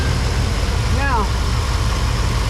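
A Chevy engine idles close up, a loud, steady low rumble, with a short spoken word over it near the middle.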